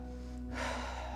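A single sharp inhaled breath during a Pilates exercise, drawn in close and clear over a steady background tone.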